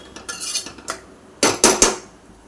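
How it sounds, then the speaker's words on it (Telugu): Metal lid clattering onto a curry pot: a few light scrapes and clinks, then three sharp, close metallic clanks as it settles into place. "ఇది మూత పెడుతున్నానండి."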